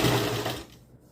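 Sewing machine running steadily as it stitches around the curved neckline of a kurti, a close, busy whirr that slows and fades toward the end.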